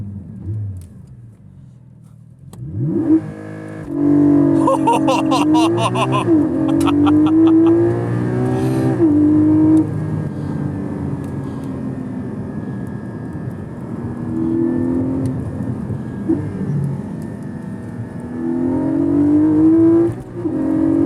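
A Porsche Cayman engine starts and revs hard, rising and falling in pitch with loud, close growling, then settles into a steady throaty drone with further revs near the end.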